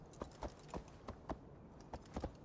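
Horse hooves clopping down cliffs in the video game Assassin's Creed Valhalla, a quiet, irregular series of about eight sharp close steps with no talk.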